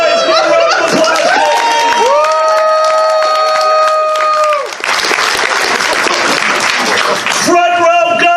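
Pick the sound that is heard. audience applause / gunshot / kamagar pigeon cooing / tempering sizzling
audience applause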